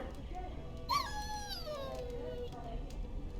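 A dog whimpers in Dragon Age: Origins, a single rising-then-falling whine heard faintly above a steady low background hum, with a voice talking nearby.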